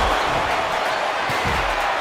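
A live wrestling crowd roars during a ladder tag team match, a dense continuous wall of cheering and noise filling the arena with a few sharper bursts.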